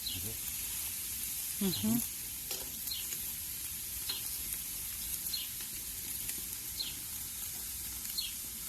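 Soft, steady sizzling of beef and chicken on a grill, fairly quiet, with a few faint chirps and clicks over the crackle.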